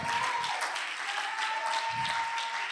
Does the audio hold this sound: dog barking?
no